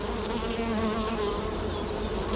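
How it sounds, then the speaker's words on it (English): A native stingless bee, small and fly-like, hums in a steady, close, continuous drone around its hive in the bush, with no voices over it. "The native bee doesn't have a sting, and he looks like a little fly"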